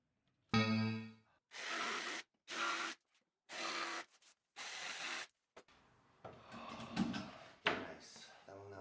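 The wooden nest box door of a homemade chicken coop scrapes and knocks through a series of separate rubbing strokes with brief silences between them, followed by rougher creaks and clatter, close and fairly loud.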